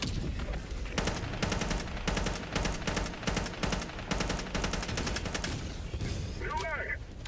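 An orbital strike in Helldivers 2 pounds down as a rapid burst of loud, closely spaced heavy blasts, followed by a short warbling electronic tone near the end.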